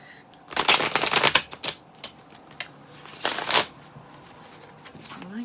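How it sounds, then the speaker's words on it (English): Oracle cards from a stiff new deck being shuffled by hand, two bursts of riffling, flapping card noise with a few scattered taps and quiet gaps between. "these really are hard to shuffle"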